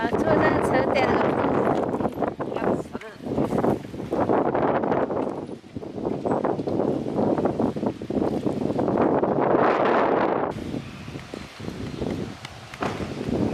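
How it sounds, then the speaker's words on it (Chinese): Strong outdoor wind roars and buffets the microphone in heavy, uneven gusts, dropping briefly before rising again, while people talk over it throughout. "你看这风多大呀，还要吹啊！"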